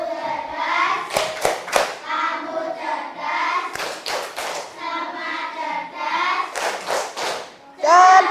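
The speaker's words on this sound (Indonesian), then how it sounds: "Tepuk anak cerdas." Schoolchildren in a classroom chant a rhythmic clapping cheer, their voices rising in unison while bursts of hand claps punctuate the chant, ending with a louder shout near the close.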